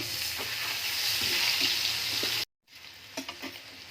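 Potatoes sizzle steadily in hot oil for aloo dum, a dense frying hiss with occasional stirring clinks, cutting to silence briefly before a softer sizzle resumes with scattered stir sounds.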